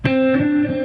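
A distorted electric guitar plays a short burst of a sixteenth-note triplet exercise: three quick picked notes, loud and close, with sustained, buzzy tone.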